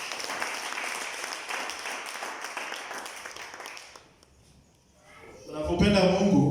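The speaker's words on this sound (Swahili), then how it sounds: "Tupigie Yesu makofi." Church congregation applauding at a Pentecostal worship service, dense steady clapping for about four seconds that dies away, then a loud voice speaks close over the fading crowd.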